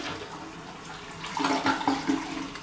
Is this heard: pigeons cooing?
no